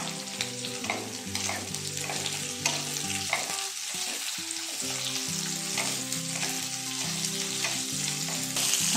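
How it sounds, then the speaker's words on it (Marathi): Garlic and capsicum sizzle and crackle in a hot pan for chili chicken while a spoon stirs them, giving a steady close frying hiss with rhythmic scraping clinks throughout. "आता हे सगळं छान परतून घ्यायचं आहे"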